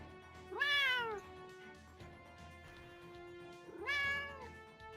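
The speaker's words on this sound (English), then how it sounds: "Oh my god, kitty noises." A pet cat named George meows twice, each call loud and close with a rising-then-falling wail, separated by a couple of seconds of quiet room tone.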